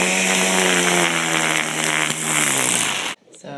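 A string trimmer's small two-stroke engine runs steadily after being started, loud and close with a constant buzzing drone that cuts off abruptly near the end.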